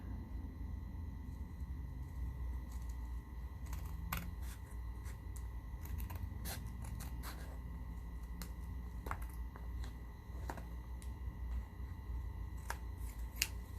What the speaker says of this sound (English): You're trimming the glitter paper to match the paper on the inside.